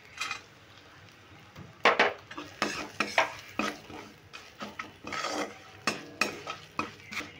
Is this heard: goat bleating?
no